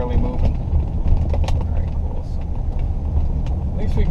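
A Ford Edge engine strains at high RPM under near-full throttle with a misfire, making a steady rough drone with road noise and occasional faint ticks throughout.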